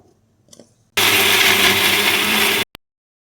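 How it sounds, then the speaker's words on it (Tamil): A mixer grinder runs in one loud, steady burst for under two seconds, grinding sautéed onion with coriander seeds and cumin into masala for a country-chicken curry, then stops with a brief click; no talking. "இந்த வணக்கி வச்ச வெங்காயத்தை இந்த மல்லி ஜீரகத்தோட ஒன்றா கொட்டி அரைக்கலாம்"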